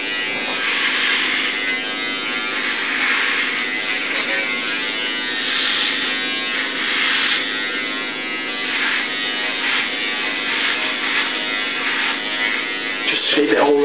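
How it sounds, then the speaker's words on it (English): Electric clippers buzz steadily while shaving a head, a close, continuous whirring drone with slight swells as the blade moves, and a person speaks over it throughout. "let's start by shaving the head"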